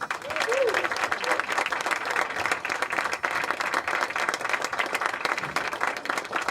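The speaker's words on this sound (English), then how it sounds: "Please give them a round of applause." A crowd at a piping club concert applauds the performers with steady, continuous clapping that fills the room for several seconds, with a brief voice heard near the start.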